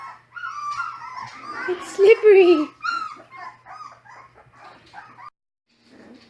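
Great Pyrenees puppies whimper and yelp up close in short high whines, under a person talking to them.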